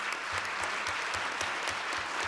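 Audience applause fills a school district board meeting, a steady wash of many hands clapping from start to finish with no talk over it.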